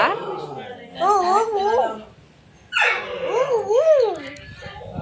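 Two drawn-out, wavering dog whimpers with a high, yelping whine, loud and close, separated by a short quiet gap.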